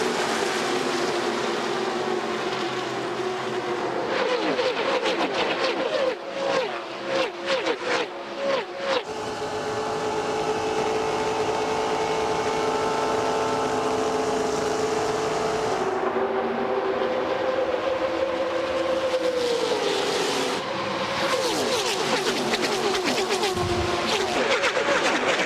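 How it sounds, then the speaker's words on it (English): NASCAR stock cars racing at Daytona under the lights in the 1998 Pepsi 400, heard from inside a car: a loud, continuous engine roar with shifting pitch and rapid pulsing passes, dominating throughout with no talking. "Sounds of the World Center of Racing under the lights"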